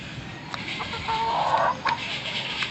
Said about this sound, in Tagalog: tandang na manok. Ayan.